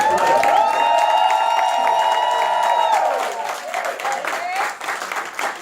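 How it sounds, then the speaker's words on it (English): A crowd applauds and cheers for guests at a marketing event, clapping with a sustained whoop or shout on top, then the applause tapers off into scattered claps and voices. "Give our guests another round of applause."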